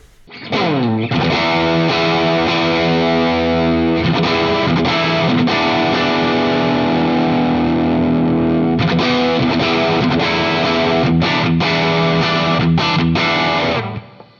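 A heavily distorted electric guitar on the bridge pickup at full volume, through a Line 6 POD Go Bogner Shiva amp model at default settings, plays sustained chords and riffs, loud and saturated, with no voices.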